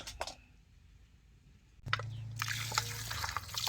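Water runs over goat head meat as it is washed: a few drips at first, then after a pause a steady splashing stream pours close by, with no speech.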